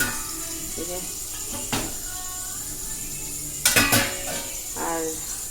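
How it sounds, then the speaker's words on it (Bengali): Egg and potato bhujia stirred in a pan, with spatula scrapes and clanks against metal over a soft sizzle, a sharper cluster of knocks partway through, while someone talks. "ডিমের ভুজিয়া করছি ছেলে খাবে আর আমি একটু খাবো ডিম আলু ভুজিয়া"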